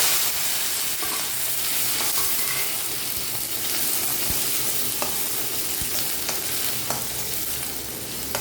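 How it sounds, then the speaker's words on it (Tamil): Chopped onion, green chili and cashews fry with popped mustard seeds for upma. A dense, steady sizzle is heard close up, with occasional light ticks from stirring. "இப்போ நம்ம வெட்டி வச்ச வெங்காயம் பச்சை மிளகா முந்திரி எல்லாத்தையும் சேர்த்துக்கலாம்"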